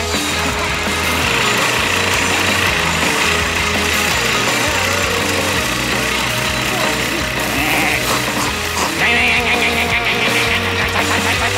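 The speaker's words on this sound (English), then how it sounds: "All this mowing is disturbing my study." Lawn mower in a Dennis the Menace and Gnasher cartoon, its engine buzzing steadily and loudly throughout with clattering mechanical noise and cartoon effects layered on top, and voices speaking over it.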